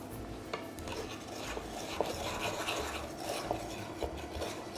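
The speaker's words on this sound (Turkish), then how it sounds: "Bunda topaklanmalar olmasın diye böyle önden bir iyice karıştırıyorum" Sugar and cocoa being stirred together before adding to milk for profiterole cream: continuous close scraping and rubbing of a utensil in a bowl with occasional light clinks, fairly quiet, with no talking.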